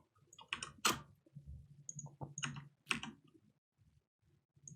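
Computer keyboard keys clatter in quick, uneven bursts of close typing, separated by short pauses.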